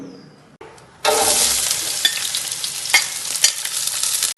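Onion, ginger, garlic and green chilli drop into hot oil and set off a loud, steady sizzle after a brief clatter. A few scraping stirs sound through the close, continuous frying, with no voices.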